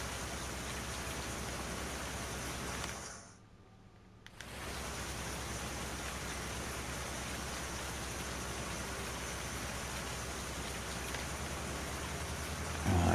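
Steady, hissing rain falls in the video game Farming Simulator 19 on PS5, a constant wash of noise that dips briefly near the start and then carries on evenly, with no talking.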